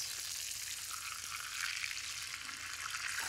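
Cordon rouge with country ham and spicy cheese browning in a pan on a grill, giving a steady, fine sizzle close up that continues throughout without talk.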